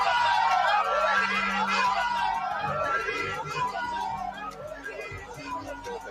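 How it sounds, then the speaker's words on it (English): A crowd outside a hospital fills the scene with a steady, dense wash of many voices, shouting and chanting together in rhythmic bursts, loud and sustained throughout. "Outside the hospital, the crowd began to chant"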